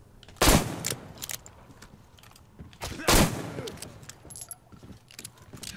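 Gunfire in the video game Metro Exodus, two loud sharp shots a few seconds apart with softer clicks and clatter between them, close and otherwise quiet.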